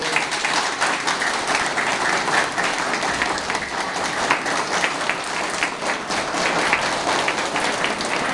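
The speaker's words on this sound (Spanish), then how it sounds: "Un fuerte aplauso para Martín." Audience applause for Martín at a public gathering in Cajabamba, steady crowd clapping sustained throughout, moderately loud and even with no talk on top.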